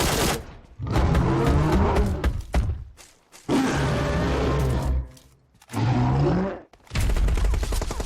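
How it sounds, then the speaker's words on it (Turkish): Loud bursts of automatic gunfire from the PUBG Mobile battle royale game, several rapid volleys separated by brief silent gaps, with no talking. "Aa sıkıyor bana sıkıyor yolda yolda"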